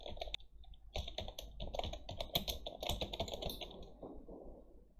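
Rapid, close clicking of fingers typing on a computer keyboard, a dense run of keystrokes with brief pauses, heard alone with no talk.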